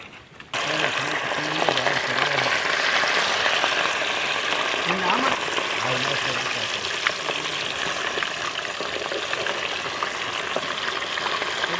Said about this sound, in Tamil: மறுபடியும் பொரிச்சு எடுத்துக்கலாம்.